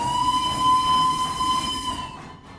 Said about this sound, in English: That was a good whistle, you can't lie.